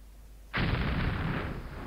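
A cannon volley in the Civil War strategy game Battleground: Antietam erupts half a second in as a sudden loud, broad roar that holds steady for over a second without fading.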